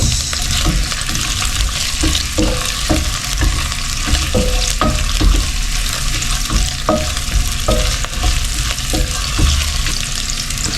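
Ginger and onion frying in a pan with calamansi nearby for a catch-and-cook dish of freshly caught mudfish, steady loud sizzle under sharp repeated spatula scrapes and stirring clinks throughout, no voices.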